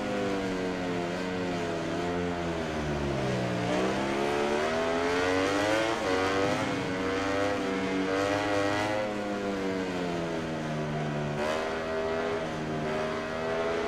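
A Ducati MotoGP bike engine in the MotoGP 19 racing game, close and loud, its whining note climbing and dropping through gear changes and braking without pause. No one talks over it.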